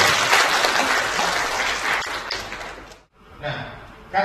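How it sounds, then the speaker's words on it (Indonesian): Applause from an audience gathered in a meeting room for a routine association meeting in Kediri rises in a dense clatter of clapping, fades out briefly, then returns in a short burst. "Tepuk tangan buat kami."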